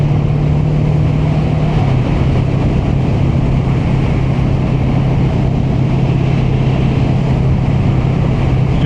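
Kawasaki Vulcan S motorcycle cruising on an open road, a loud continuous engine drone with a steady low hum under heavy rushing wind noise, no voices.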